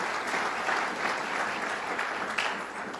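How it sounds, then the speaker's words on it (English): Audience at a Westchester event with Governor Cuomo applauding, dense continuous clapping from a crowd, loud and steady throughout with no talk over it. "Let's give her a round of applause."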